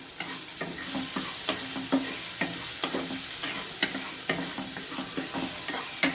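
Steady crackling sizzle of vegetables sautéing in hot oil with salt for ragi adai, with repeated scraping clicks of a spoon stirring the pan at a brisk rhythm.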